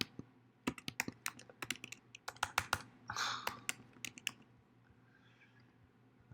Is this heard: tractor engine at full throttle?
no